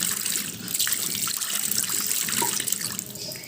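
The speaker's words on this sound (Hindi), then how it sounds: "पहले मैं कर लेती हूँ अपना मुंह हाथ धो लेती हूँ" Tap water runs steadily into a sink as someone washes face and hands, a continuous close splashing stream with small trickles and no voices.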